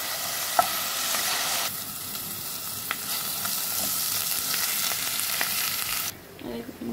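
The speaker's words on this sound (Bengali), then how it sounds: "এখন আমি পেঁয়াজ বাটাও দিয়ে নিলাম।" Onion paste fries in a pan with a steady close sizzle, punctuated by a few light clicks and scrapes of stirring, then the hiss drops away sharply near the end.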